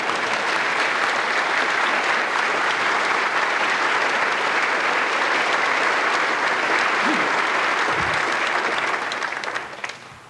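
Sustained, dense audience applause at a corporate management event, steady and loud for about ten seconds before tapering off at the end.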